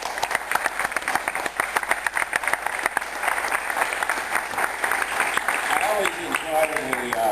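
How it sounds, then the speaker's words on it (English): An audience applauds a guest at a mission operations control room talk, a thick continuous clapping that stays loud throughout while a voice speaks faintly underneath near the end. "So if everyone could give Mr. Kranz a nice round of applause."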